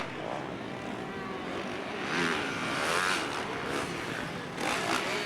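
KTM 125 two-stroke motocross motorcycles race at the 2014 CA Gold Cup, a steady high-pitched engine drone from the pack with rising revs swelling mid-clip and again near the end, fairly distant and continuous.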